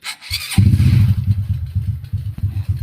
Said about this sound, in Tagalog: Ito yung tunog ng makina, ganda na rin kasi in-overhaul nga natin yan.